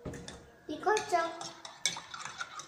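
Milk being whisked in a bowl in a kitchen, a metal utensil clinking and scraping against the bowl in short irregular bursts, with faint voices in the background.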